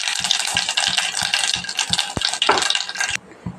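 Cumin, mustard seeds and urad dal fry in hot oil with a dense, close sizzle, punctuated by regular taps of a spoon stirring the pan, before the sound drops away near the end.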